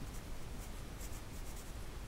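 A pen scratches continuously across paper while a thin-section description is written out by hand, a faint, steady, close scraping with no talking.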